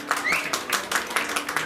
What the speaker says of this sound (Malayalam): ചേച്ചിക്ക് നല്ലൊരു കയ്യടി കൊടുക്കുക